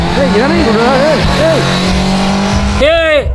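A car with failing brakes skids in a short film, rising and falling tire squeals over a steady engine drone, ending in a sharp loud screech, while a voice speaks.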